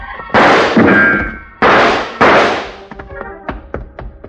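Gunshot sound effects in a radio drama: several loud, close bangs with ringing decays, followed by a few sharper, smaller knocks.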